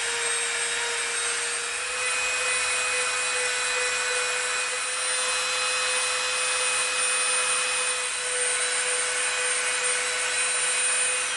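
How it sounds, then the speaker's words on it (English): Dremel rotary tool buffing dry contact cement residue off EVA foam, a steady high-pitched motor whine with abrasive grinding held at an even level throughout, no talking. "the Dremel is awesome for taking that residue off"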